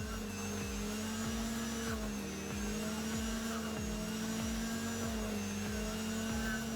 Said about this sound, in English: I sanded the edges to remove tiny cracks left by my miter saw.